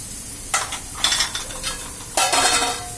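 Masala spices, black pepper and red chili among them, are stirred in a pan with a utensil. Several close scraping strokes come in bursts over a steady background hiss, with no voices.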